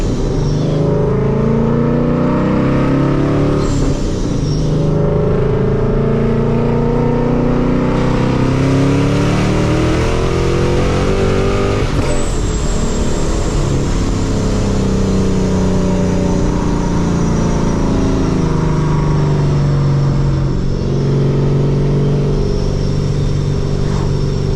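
A Ford Mustang engine revs hard and continuously, rising and falling in loud, sustained pulls close by, with no talk over it.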